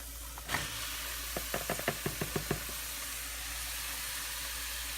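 Ground turkey drops into a pan of lightly browned garlic and onion, giving one soft thump and then a quick run of about eight spoon taps over a steady low hiss. It is faint and close, with no talk.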